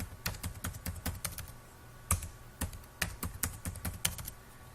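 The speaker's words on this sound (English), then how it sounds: "I key in my email address, which includes the plus and the numbers, my password" Typing on a computer keyboard while entering an email address and password, close crisp key clicks in quick uneven bursts with short pauses, alone in a quiet room.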